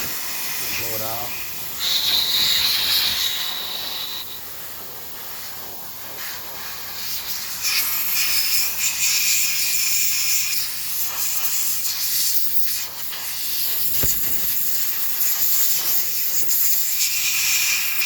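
Compressed air blasts out an engine part from a 2011 Toyota Corolla, a loud, broad hiss in several long bursts separated by short pauses, close to the listener.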